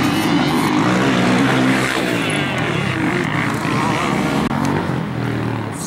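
A Yamaha supercross motorcycle being ridden, its engine a loud, close, continuous roar that holds steady throughout with slight shifts in pitch.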